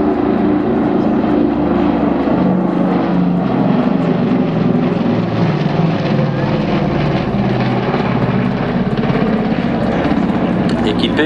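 Lockheed Super Constellation propeller airliner with four Wright Cyclone engines drones loudly as it flies past, a continuous deep throbbing roar that holds steady throughout.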